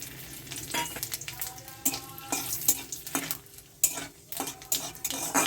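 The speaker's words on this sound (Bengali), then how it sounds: "ফোড়নের জন্য আমি নিয়েছি তিনটে এলাচ তিন টুকরো ছোট দারচিনি আর দারচিনির ছোট টুকরো অল্প একটু জিরে একটা শুকনো লঙ্কা আর একটা তেজপাতা এটা আমি পুরোটাই ফোড়নে দিয়ে দিচ্ছি" Whole spices sizzling in hot oil for tempering: three cardamom pods, small pieces of cinnamon, a little cumin, one dried red chilli and a bay leaf, crackling and hissing under sharp metal clinks and scrapes of a spoon in the pan.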